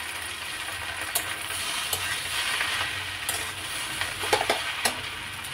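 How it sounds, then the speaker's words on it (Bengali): Pasta being stirred together with pasta masala, butter and tomato ketchup in a pan, a steady soft sizzle and scrape of spoon against the pan with a few sharper clinks, close and alone. "পাস্তা মশলা, বাটার, টমেটো কেচাপ সব একসাথে ভালো করে মিক্স করব 2-3 মিনিট ধরে"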